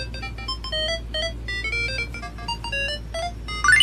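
Ulala ringtone from an early 2000s mobile phone game, a bright synthesized melody of short, rhythmic beeping notes that plays steadily and fairly loud over a low bass hum, with a rising flourish at the end.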